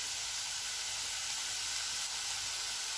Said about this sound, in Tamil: நான் உப்பு போட்டு வதக்கிறேன், வேகமாக வதங்கிடும்.